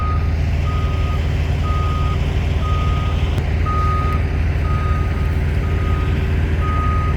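Trucks idling at a truck stop, a loud low diesel rumble under a steady series of evenly spaced reversing beeps, about one per second, continuing throughout without talk.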